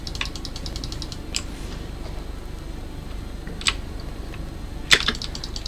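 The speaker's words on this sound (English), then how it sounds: "I'll try and fix the keyboard noise after I die." Rapid computer keyboard typing clicks patter in quick runs over a steady low hum, with a few louder isolated key strikes, close and moderately loud with no talk, recorded while a game of Rogues is played.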